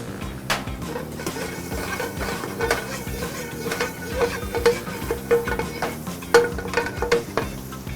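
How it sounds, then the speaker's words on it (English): Brussels sprouts sauté in a pan with butter and bacon fat, giving a continuous close crackling sizzle broken by irregular clinks and scrapes of stirring. "So right now we are sauteing our Brussels sprouts in 2 tablespoons of butter, along with about a tablespoon and a half of bacon fat."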